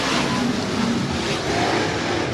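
Modified race cars of the Touring Outlaw Modified Series roar steadily around the Heart O' Texas Speedway, a dense continuous engine drone with no break across the short stretch.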